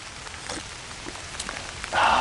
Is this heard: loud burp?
no